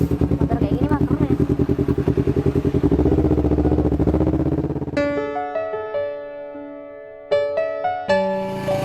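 A motorcycle engine runs close by with a steady, rapid pulsing for about five seconds, then drops away as ringing musical tones and voices take over.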